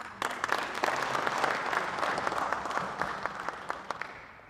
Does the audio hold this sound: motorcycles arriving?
no